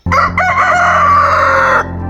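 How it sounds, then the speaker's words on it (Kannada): A rooster crows once, close and loud, in a slow village morning, a single drawn-out call of about two seconds that ends abruptly. "ಇಲ್ಲಿ ಕೋಳಿಗಳ ಬಗ್ಗೆ ಕೇಳಂಗೆ ಇಲ್ಲ, ಎಲ್ಲರ ಮನೆ ಮುಂದೆನೂ ಕೂಗ್ತಾನೆ ಇರ್ತದೆ."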